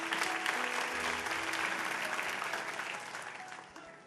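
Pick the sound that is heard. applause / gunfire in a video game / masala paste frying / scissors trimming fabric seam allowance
applause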